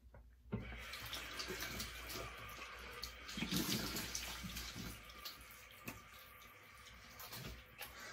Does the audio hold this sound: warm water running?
yes